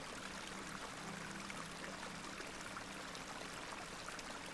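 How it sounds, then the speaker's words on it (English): A small stream of water flowing in a point-and-click video game gives a faint, steady, even trickle and wash with no breaks, heard alone without speech. "This is a lovely little beck. It's where we get our water, miss."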